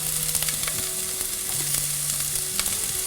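Chopped onion frying in a pan with butter and oil, a steady close sizzle with faint clinks of stirring throughout, no voices.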